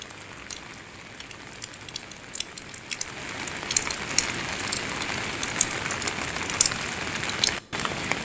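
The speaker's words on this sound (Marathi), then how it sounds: "नाशिकमध्ये संततधार पाऊस कोसळतोय" Heavy, continuous rain pours down in Nashik, a steady dense hiss of drops on surfaces that swells louder after the first few seconds, with a brief dip near the end.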